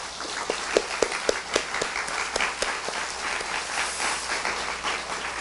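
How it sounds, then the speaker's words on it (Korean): A church congregation at a summer retreat worship service breaks into applause, with a few sharp individual claps at first before they merge into steady, full clapping that lasts several seconds. "이 하나님께 감사와 영광의 박수를 올려드리겠습니다."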